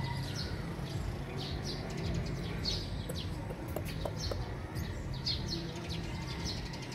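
Small birds chirp and tweet in quick scattered bursts over a constant rumbling background noise, moderately distant.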